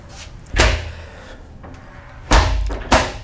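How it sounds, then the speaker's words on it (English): A cruise ship balcony cabin's shower door on a P&O Iona swings shut with a loud close, followed by two more sharp bangs, near and alone in a quiet bathroom. "And the shower door does both ways."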